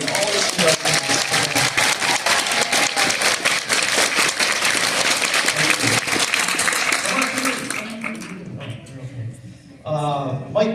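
Loud, sustained audience applause fills a hall at a jazz evening, dense clapping with some cheering that fades toward the end before a brief final burst.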